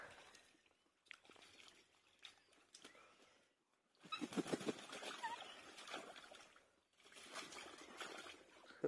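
Chinese ducks splash and play in water poured from a pipe, with bursts of close, lively splashing and trickling that start and stop across the clip.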